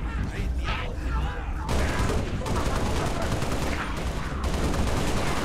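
Rapid gunfire bursts from Halo Reach fill a firefight, loud and nearly continuous with sustained automatic fire and clustered shots, while a voice talks over the shooting.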